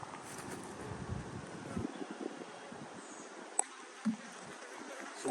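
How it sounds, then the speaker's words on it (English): A soft, steady buzzing of honey bees around a hive hums close by, with faint wind noise and a couple of brief knocks. "These bees are working."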